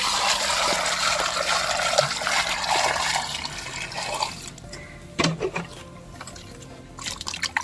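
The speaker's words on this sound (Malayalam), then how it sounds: "ഇനി നമുക്ക് നന്നായിട്ടൊന്ന് കഴുകി വൃത്തിയാക്കിയിട്ട് വരാം" Water runs steadily from a tap as a fish head is rinsed for a fish head curry. The flow is loud at first, then drops to softer trickles and splashes.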